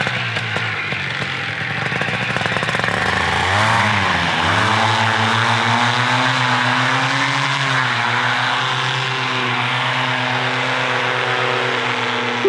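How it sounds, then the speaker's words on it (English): The powerful engine of a paramotor trike, worn on a pilot's back at launch, drones loudly and steadily, with a rising and falling rev partway through before it settles into a sustained roar. "The smell of avgas exhaust as Dan launches a literal trike motor on his back."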